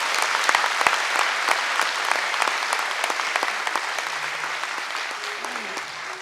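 A crowd at a cultural celebration for the National Day of Guarania gives a round of applause to an association, with brisk, fairly close clapping that holds steady for several seconds.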